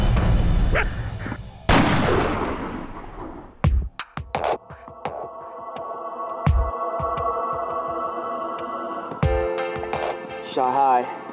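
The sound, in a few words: gunshot from a hunting rifle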